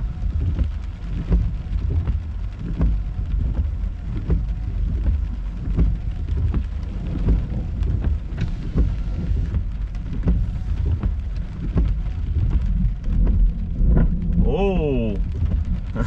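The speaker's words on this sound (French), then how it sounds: "Écoutez le tonnerre." A summer thunderstorm pours steady heavy rain that is loud and close throughout, with low thunder rumbling beneath it and brief voices near the end.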